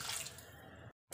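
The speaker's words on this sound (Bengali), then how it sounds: "এবার দিয়ে দেবো অল্প পরিমাণ জল।" Water poured in a small amount into a pan of simmering potato curry, a close, steady trickling splash that runs for most of the moment, then cuts off in a brief silence before the sizzle resumes.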